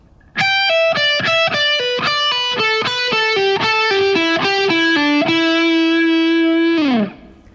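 Distorted electric guitar plays a rock lick as a fast sequence of picked notes stepping down a scale in repeating groups, ending on a sustained bent note that fades out, loud and close with no talking.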